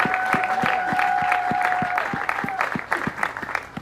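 Church congregation applauding during an anniversary service, a steady wash of many hands clapping with rhythmic individual claps standing out, close and fairly loud, with a sustained tone and some voices beneath.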